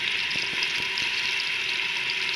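Beef pieces and onions frying together in olive oil in a pan, a steady close sizzle with faint stirring scrapes underneath and no voices.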